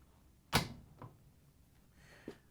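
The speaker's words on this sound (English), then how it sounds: "you can close the dryer door." The door of an LG dryer shuts with one sharp, close thud, followed by a softer knock and a faint click in an otherwise quiet room.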